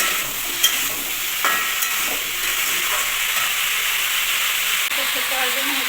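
A pan of frying vegetables for a plain vegetarian curry sizzles and hisses steadily as a little water goes in, with a few light clinks of stirring.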